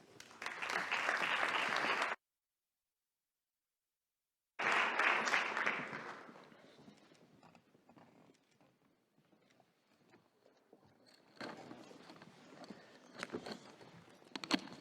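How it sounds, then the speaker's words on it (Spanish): Audience applause at a round-table panel on New Space investment, a loud burst of clapping for about two seconds, then a gap, then another strong round that fades into scattered claps and light room noise. "Un aplauso para todos ellos"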